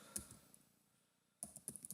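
Computer keyboard typing in a spreadsheet, a single keystroke, a near-silent pause, then a quick close run of several crisp key taps.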